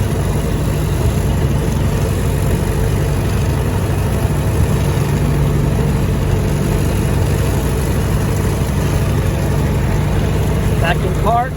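A 1923 Ford Model T coasts and brakes with a steady, loud, low engine rumble and road noise throughout, and a voice speaks over it.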